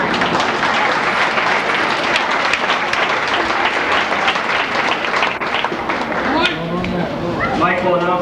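Audience applause for the Lions Club president at a lake town mermaid pageant, loud sustained crowd clapping for about six seconds, then fading as a voice begins talking over the last stretch.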